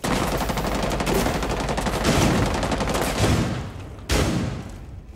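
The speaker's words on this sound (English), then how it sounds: "That's a lot of gunfire." Sustained rapid video game gunfire in Rainbow Six Siege rattles continuously, dense and loud, with a brief pause before another burst of shots near the end.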